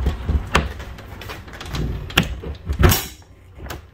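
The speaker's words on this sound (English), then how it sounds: "Can you push the door closed?" An RV door is pushed shut, giving several scattered knocks and rattles and a final louder thump as it closes, with no talking.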